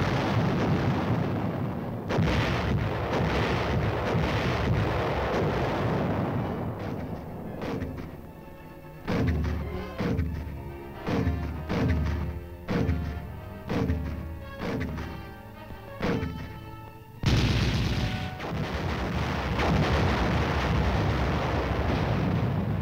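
Artillery fire from Korean War footage booms in heavy repeated blasts and crashing detonations, with a run of rapid, evenly spaced shots in the middle, loud and dense throughout.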